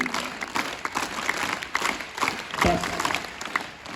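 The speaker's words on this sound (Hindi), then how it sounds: "बजा ताली, वीर ताली" A crowd claps steadily in a sustained round of applause, with a few voices mixed in near the end.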